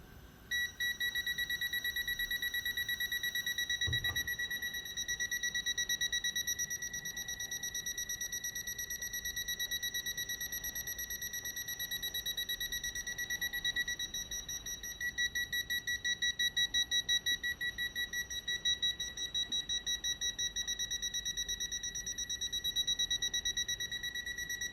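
A gas leak detector alarm beeps continuously in rapid, even high-pitched pulses after a brief burst of cooker gas, a thin electronic tone that persists unbroken at moderate volume in a quiet room.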